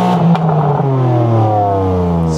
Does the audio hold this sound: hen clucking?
no